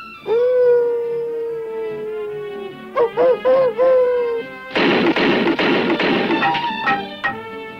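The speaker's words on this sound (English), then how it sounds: "Listen, Bosch, it's a wolf howling. he sounds hungry." A long, wavering wolf howl played on a phonograph in a 1963 cartoon, with a recorded tone, breaks into shorter yelps, then loud crashing noise takes over.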